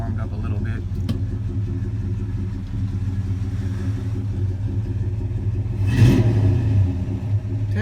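The big-block engine of a 50-year-old 1970 Dodge Super Bee idles with a loud, steady low rumble before a sharp rev swells it into a brief roar, and voices talk over it.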